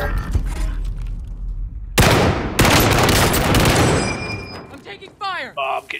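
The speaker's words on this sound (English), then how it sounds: "Oh, I'm getting shot in the back." Gunfire in the Call of Duty: Modern Warfare video game, a sudden loud burst of rapid shots and blasts near the middle, with game effects and a player talking before and after.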